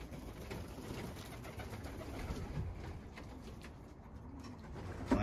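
Soft pigeon coos sound faintly outdoors against a low background hum, with no talking.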